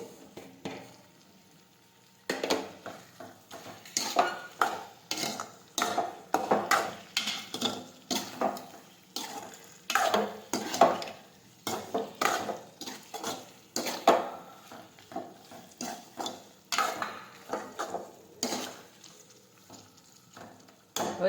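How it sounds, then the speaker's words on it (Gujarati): Okra curry with spices stirred in a pan, a steady rhythmic run of close scraping strokes and spoon knocks against the metal, repeating for about twenty seconds after a quiet start, with no talking. "હવે આ રીતે આપણે મિક્સ કરી દઈશું બધા મસાલા."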